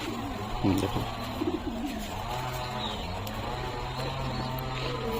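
A Zeria male pigeon at a loft coos in low, repeated throaty phrases, close and steady, with faint bird chirps and ambient hum around it.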